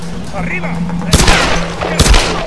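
Two loud, sharp bursts of gunfire from Tomb Raider: Definitive Edition, about a second apart, ring out over a steady game background hum, with a voice speaking faintly over the game.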